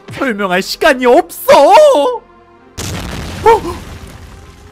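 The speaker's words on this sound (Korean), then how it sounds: "밖에서 폭발하는 소리가 났어요" An explosion goes off outside in the Minecraft video game. A voice speaks first, then a loud, broad boom rolls in and rumbles on beneath more talk.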